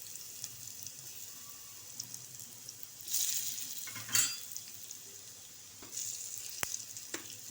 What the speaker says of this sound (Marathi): आता आपण एक एक कोथिंबीर वडी याच्यामध्ये डीप फ्राय करूया